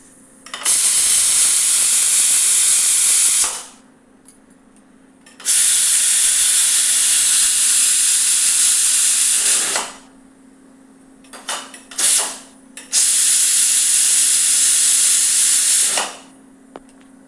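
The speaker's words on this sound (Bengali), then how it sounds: "এবারে কুকারে ঠিক একটা সিটি দেওয়াবো আর সাথে সাথে কুকারের গ্যাসটা খুলে দেবো।" A pressure cooker on a gas stove vents steam in three long, loud hissing bursts of several seconds each, with short sputters between the second and third, over a faint steady hum.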